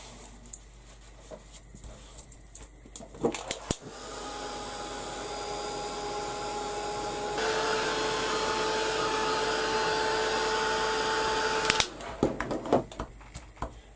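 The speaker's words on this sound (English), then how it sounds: "I'm just going to give this a quick blast with the heat gun." A heat gun blows a steady, loud whooshing hum while drying a clean stencil, starting after a few handling clicks, shifting pitch midway, then cutting off and leaving faint taps.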